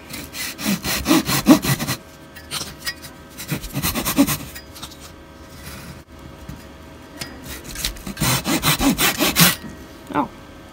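Hand sawing through a wooden joint in three bursts of quick, rhythmic back-and-forth strokes, with short pauses between, close and clear.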